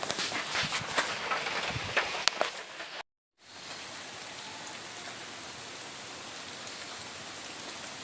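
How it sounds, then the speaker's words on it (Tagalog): Heavy rain pours down in a dense, steady hiss with scattered louder drops, briefly cut to silence partway before resuming as a continuous even roar. "Kusugang ulan rin eh."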